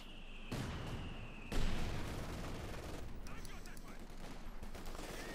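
Osman armored car fire amid a Company of Heroes 2 battle, a dense rolling roar of shots and bursts with rapid rattling toward the end, under a commentator talking.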